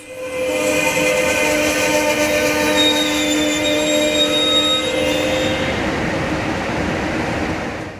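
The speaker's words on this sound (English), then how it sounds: "the train pulls into the seaside resort community of Santa Barbara" An Amtrak Coast Starlight train pulls into the seaside station at Santa Barbara, its sustained horn or whistle tones ringing loud and close over a continuous rumble of rolling cars that stays steady throughout.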